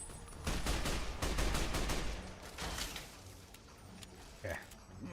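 Gunfire in Fallout: New Vegas, a dense burst of shots striking the player character, loud and clustered in the first half and then thinning into scattered hits.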